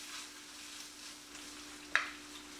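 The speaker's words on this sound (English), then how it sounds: "So the edges of the bacon is just about to brown, or just beginning to turn brown" Bacon sizzles faintly in a pan with a soft steady crackle and one brief sharper pop.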